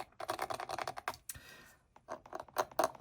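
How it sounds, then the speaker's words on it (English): An X-Acto knife scrapes smeared ink off a canvas in a series of short, quick, dry scratching strokes. The strokes are close and soft and come in bursts with a brief pause midway. "I scrape that ink off there"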